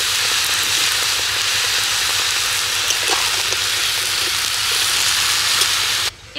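Green peas hitting a hot pan in a village kitchen, a steady loud hiss and sizzle that runs unbroken for several seconds before cutting off abruptly near the end.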